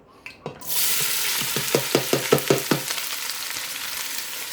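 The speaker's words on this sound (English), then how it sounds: "get yourself a little bit of water on your finger. Just a tad bit, and hear that sizzle." A sudden burst of sizzling as a drop of water hits hot cooking oil, with a quick run of sharp pops and crackles that then settle into a steady hiss.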